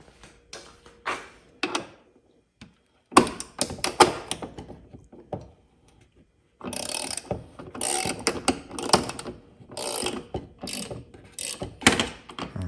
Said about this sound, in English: the proper length to fit inside the bumper to get those bolts loosened up